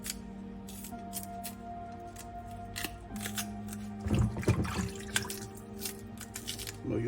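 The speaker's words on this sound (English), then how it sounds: "In the water, just kind of peel back with your finger." Wet peeling and squelching sounds as a green banana is peeled in water, with drips and light splashes over a steady background hum.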